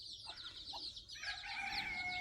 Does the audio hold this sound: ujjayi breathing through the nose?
no